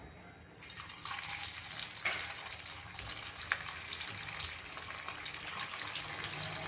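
Bites dropping into hot oil to fry, a steady bright sizzle and crackle that swells after the first second and keeps bubbling close and moderately loud, no voices.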